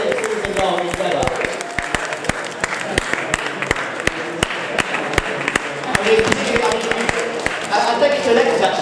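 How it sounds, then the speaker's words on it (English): A crowd at a football club's season awards gives a round of applause for the promoted first team, with loud, sharp individual claps close by over a spread of clapping and chatter. "can I just sort of get a round of applause for the first team"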